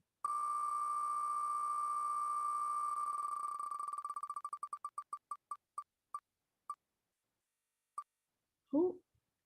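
Online wheel of names spinning during a prize draw, a continuous rapid ticking tone that slows into separate beeps and stops, followed by a brief voice.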